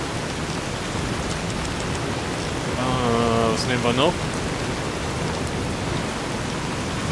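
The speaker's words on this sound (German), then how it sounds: "Ich hoffe, ihr hört jetzt nicht nur den Regen" Heavy rain pours steadily as loud, constant hiss throughout, with someone briefly talking over it in the middle.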